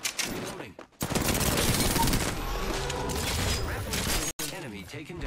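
Sustained automatic gunfire from an R-301 rifle in the Apex Legends video game, loud and dense, rattling almost without pause across the clip apart from two brief gaps.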